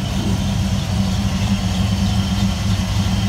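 Truck with a 454 engine idling in a packed car-show parking lot, a steady, deep, rumbling engine note close by and continuous throughout.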